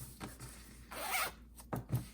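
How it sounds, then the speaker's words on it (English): Sturdy zipper on a small layflat shoe bag being pulled open in a few short quick rasping strokes, close and clear with brief pauses between pulls. "It's got a nice sturdy zipper in it and it opens up."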